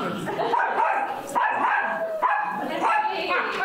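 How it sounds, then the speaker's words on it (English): Several dogs bark and yip in a noisy indoor crowd at a public meeting, steady loud chatter continuing under the barks throughout. "Who let the dogs?"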